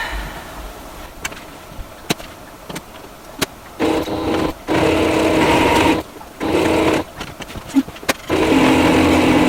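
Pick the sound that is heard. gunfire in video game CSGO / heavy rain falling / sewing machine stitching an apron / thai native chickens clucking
sewing machine stitching an apron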